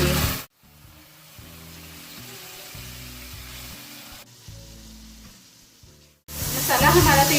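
Onion and tomato masala for chicken curry sizzles and fries steadily in a pan, a continuous close hiss with faint tonal background sound, bracketed by louder bursts of frying at the start and end.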